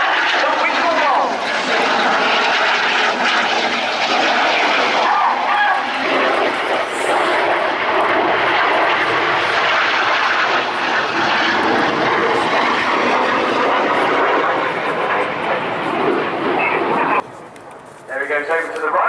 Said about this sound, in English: So now in honour of an incredible man, these are the Winkle Rolls